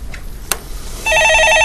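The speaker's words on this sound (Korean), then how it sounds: "예, 전화 받아보겠습니다." A telephone rings in a studio with a loud, electronic, repeating trill that starts abruptly after a sharp click and quiet pause.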